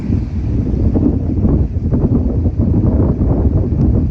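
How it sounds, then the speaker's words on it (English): Strong wind buffets and roars across the microphone continuously on a 53-foot sailing ketch, loud and close, with a rushing low-frequency roar and no voices. "It's very windy."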